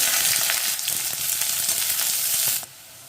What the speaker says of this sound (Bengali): এই পেঁয়াজটাকে আমি একটু বেরেস্তা করে ভেজে নেব।